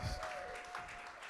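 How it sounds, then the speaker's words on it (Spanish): A church congregation applauds in a short, dense burst of clapping, fairly faint, with a sustained tone underneath. "Vamos, dele al Señor un aplauso."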